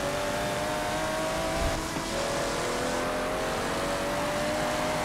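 Ferrari 375 race car in Forza Motorsport 7 sliding sideways, its engine droning steadily and loud with tire scrub throughout, no voices over it.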